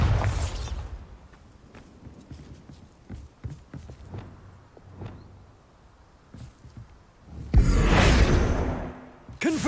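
A Bombarda spell explosion in the Hogwarts Legacy video game bursts loud and broadband near the end, following scattered footsteps and small clatters earlier, with a softer blast at the start.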